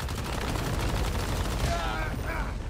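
Rapid automatic gunfire from a fast gunner build in the game Once Human, a dense continuous roar of shots during a boss fight against a giant, loud and unbroken from start to finish.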